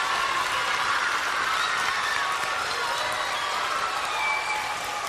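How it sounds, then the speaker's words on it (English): Audience applause for author Meg Cabot, a thick, sustained roar of clapping that stays loud and even throughout, with some whoops or voices mixed into the crowd. "Can we give Meg a big round of applause?"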